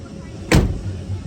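A heavy door slams shut on a classic Ford Thunderbird at a county fair car show, one loud solid thud with a deep, lingering body resonance afterward, and faint low voices around it.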